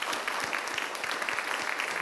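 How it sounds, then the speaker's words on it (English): A symposium audience gives a final round of applause, even continuous clapping with distinct individual claps audible throughout, moderately loud and without talk. "One final round of applause"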